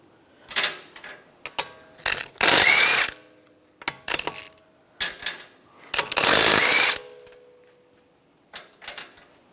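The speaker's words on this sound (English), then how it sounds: "Remove the wheel, use a 19mm socket, take the lug nuts off." Lug nuts on a 2013-2016 Dodge Dart wheel come off with a 19mm socket on a power tool, giving several loud, close bursts of rattling impact whir, each a second or so long, with clinks of metal between them and no speech.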